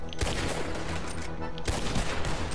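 Gunfire in the Red Dead Redemption 2 game, a dense run of loud, close shots with sharp bursts near the start and again past the middle, over continuous game noise, no talking.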